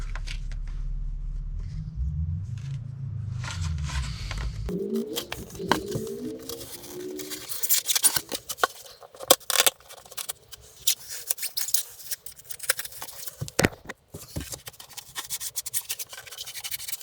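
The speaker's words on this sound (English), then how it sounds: "So I'm just going to roughly cut what would be a circle" Insulating material for a VW Crafter CR50 TDI van is roughly cut into a circle, a steady run of close scratchy snips and rustles following a low engine-like hum that fades out early on.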